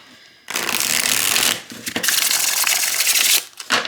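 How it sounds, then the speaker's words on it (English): Thin, flexible linen-finish tarot cards riffle and overhand shuffle in two loud bursts of dense crackling friction, with a brief pause between them and a shorter burst at the end. "Let's go ahead and give it a little shuffle."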